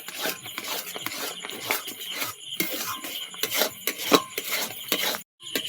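Mango being stirred in a kadai, a steady scraping and rubbing of a spatula against the pan that runs on in uneven strokes, close and fairly loud, with no talking over it.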